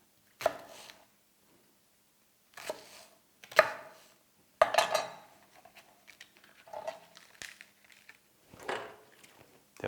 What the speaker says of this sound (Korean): 대파는 큼직하게 썰어서